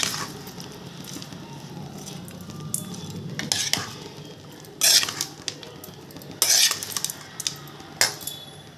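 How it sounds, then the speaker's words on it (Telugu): A spoon or ladle mixes a spice tempering into cooked rice in a pot for narinja kaya pulihora, giving close scraping and stirring with several sharper metallic clanks against the pot, and no talk. "ఇప్పుడు ఈ మిశ్రమాన్ని అన్నంలో వేసి కలుపుకుందామండి."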